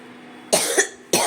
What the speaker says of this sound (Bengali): খুব কাশি হয়েছে গো